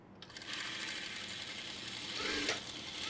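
A sewing machine stitches during a tailoring lesson, a steady close whirring hum running unbroken for about three seconds with no voices.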